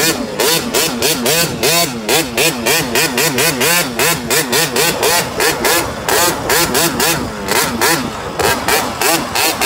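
A KTM 50 motorcycle engine revs hard and close throughout, its pitch rising and falling in quick repeated bursts as the rider drives.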